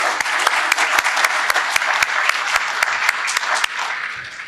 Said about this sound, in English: So a round of applause for Jazroob.